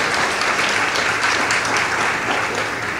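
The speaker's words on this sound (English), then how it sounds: "round of applause for this great building" An audience applauds inside the historic Pythian Theater, a steady dense roll of clapping that holds at an even level throughout.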